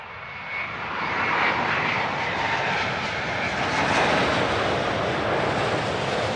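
An airliner landing on runway 27 at Heathrow Airport: a loud, sustained jet roar that swells and holds steady as the aircraft passes nearby, no talking.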